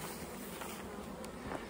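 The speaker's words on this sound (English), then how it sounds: "Got lots of bee flight." Honeybees in heavy flight around hive boxes in extreme heat make a brief, steady buzzing swarm hum, fairly close, with a couple of individual bees whizzing past and no talk.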